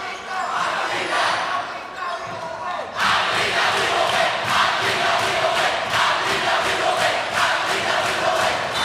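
A student cheering section at a girls varsity volleyball match in a gym, a loud crowd that erupts into rhythmic chanting and cheering, with a commentator's voice talking over it.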